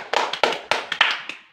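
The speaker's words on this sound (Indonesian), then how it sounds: "Kita beri tepuk tangan untuk kelompok 1." A brief, sparse round of clapping from a few hands in a classroom, irregular claps fading out after a second or so.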